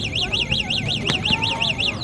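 A car alarm goes off close by with a steady rising-and-falling electronic wail, repeating over and over, while people talk over it at a basketball game in Dubai.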